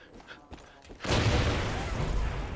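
Explosion in the video game Far Cry 5, a sudden loud blast that erupts after a second of quieter game sounds and rolls on as a dense rumbling roar to the end.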